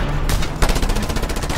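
Rapid automatic gunfire in the video game Just Cause 2, a loud continuous burst of overlapping shots with a dense rattling rhythm that fills the whole moment.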